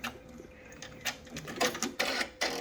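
An embroidery machine stitches a zipper bag design, producing close, uneven bursts of rapid mechanical whirring and clattering with brief pauses between runs.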